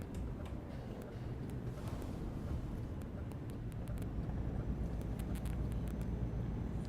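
Steady, soft ticking of a DAF 95 ATi truck's turn indicator in Euro Truck Simulator 2 repeats over a constant engine and road rumble, the clicks faint and evenly spaced.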